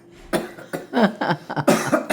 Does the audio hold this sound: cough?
yes